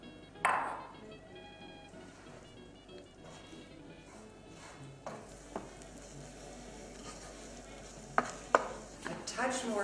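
Eggs with goat cheese cook in a pan at a Perigord chateau breakfast, a faint soft sizzle under quiet kitchen noise with a few sharp clinks and stirring taps.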